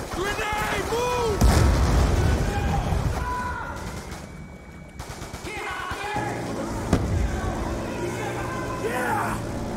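Grenade blast and gunfire in a Call of Duty: Black Ops II battle, booming explosions and bursts of shots mixed with shouted voices and game music throughout.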